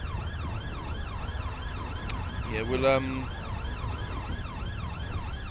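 Wailing emergency vehicle siren in a video game roleplay, steady rising and falling tones running throughout at moderate level, with a brief burst of radio-like chatter in the middle and a short spoken word.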